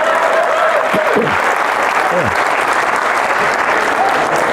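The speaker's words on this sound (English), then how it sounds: "Clap if you never wore a helmet." Comedy club audience clapping and cheering loudly through a stand-up set, with a few whoops and shouts rising over steady dense applause.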